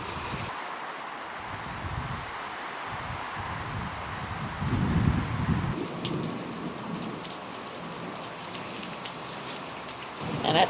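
Steady rain patters on surfaces outdoors, a dense, continuous hiss with occasional louder gusts of drops and a faint low rumble.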